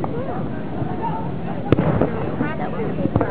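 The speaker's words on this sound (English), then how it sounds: "fireworks." Fireworks go off at the start of a Friday night race, with a couple of sharp, distant pops and bangs rising above steady background chatter and crowd noise.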